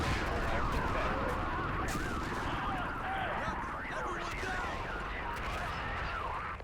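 Mortar and other gunfire rumble continuously from a distance during a video game battle against a Marine Expeditionary Unit, fairly faint and steady beneath someone talking.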